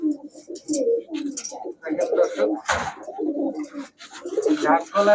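Pigeons, including Indian and Pakistani high-flyer giribaz breeds, coo softly in low, throaty bursts at a pigeon sale, mixed with someone talking close by.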